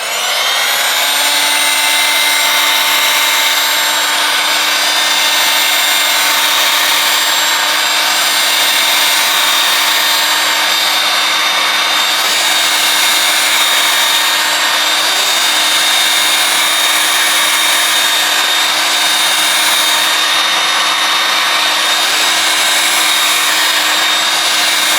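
A heat gun blows hot air onto the back cover of a Caterpillar CAT S62 phone during a teardown, giving a steady, loud, unbroken whine and airflow roar that holds an even level for the whole stretch, with no talking.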